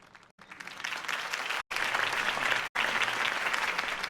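Crowd applause at Harvey Dent's campaign speech in the Telltale Batman video game, a dense, steady roar of clapping that fills the space and is cut by a few brief dropouts.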